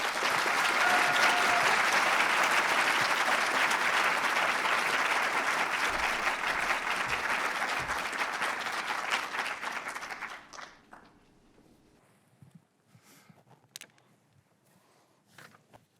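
Sustained applause from a lecture audience greeting a professor at a university research lecture, dense and steady clapping for about ten seconds before tapering into scattered claps and quiet room noise.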